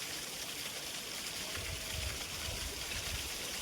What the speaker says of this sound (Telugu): ఇది అంతర్గంగా వాటర్ ఫాల్స్.